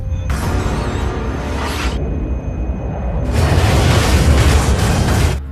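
Alien spaceship wall blowing apart in a sci-fi film: a loud, close roaring explosion with deep rumble, easing slightly mid-way before a second, even louder burst of crackling debris and blast noise that holds until the end.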